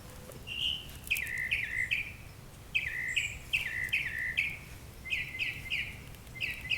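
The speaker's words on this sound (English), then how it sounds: "That bird wants to star on Late Bloomer." A small bird chirps in a garden, giving repeated quick bursts of bright, high tweets in steady phrases over a soft background hiss, fairly close and with no talking.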